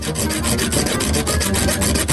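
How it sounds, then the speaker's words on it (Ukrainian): A saw cuts through a Coca-Cola-related item in a kitchen hack test, a steady back-and-forth rasping that runs continuously and close for about two seconds with no talk over it. "Пила набагато краще."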